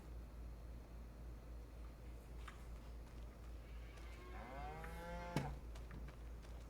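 A cow in a farming video game moos once, drawn-out and clear, over a quiet steady background hum, followed by a sharp knock.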